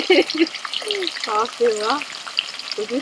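Fish fries in hot oil with a dense, crackling sizzle running throughout, while a voice talks over it in the foreground.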